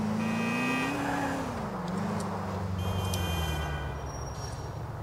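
A car engine in Grand Theft Auto IV held at full throttle, a steady loud drone whose pitch rises, dips and slowly sinks, with faint high electronic tones over it throughout.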